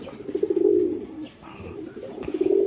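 Racing pigeons coo in low, repeated rolling calls at a mini derby race, fairly close and steady across the moment, with faint background noise between the coos.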